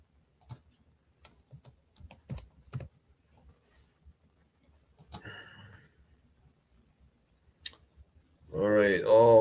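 Scattered keystrokes on a computer keyboard as a Google search for half moon is entered, sparse clicks in short bursts, with a voice speaking briefly at the end.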